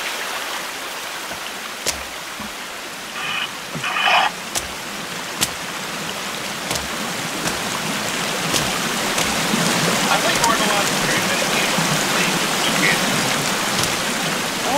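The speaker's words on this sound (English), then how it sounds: "The water running down the rock." Water running down a rock near a waterfall outdoors, a steady broadband wash with scattered sharp drips and splashes, continuous and fairly close, growing slightly fuller toward the end.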